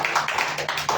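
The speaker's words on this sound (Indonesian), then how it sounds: "Beri tepuk tangan yang meriah." Applause from a congregation at a church service, heard as a brief burst of rhythmic clapping up close, with no talk over it.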